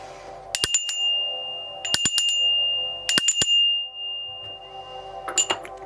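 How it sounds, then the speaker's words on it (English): A small ringing bell strikes in quick clusters three separate times, each burst bright and metallic with a sustained high tone ringing out between them, close and clear in a quiet room. "I'm going to ring the bell 3 times, so to ward off any left traces."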